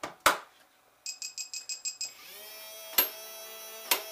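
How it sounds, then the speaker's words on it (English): A PIN Genie Bluetooth smart lock emits a rapid series of six short, bright electronic beeps while being programmed, followed by a steady whirring motor hum and a couple of sharp clicks, heard close up with no one talking. "And it's supposed to make a loud beep noise."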